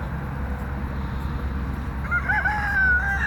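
Chickens and turkeys in a morning farmyard call close by, a rooster-like drawn-out crow rising near the end over a low steady background hum.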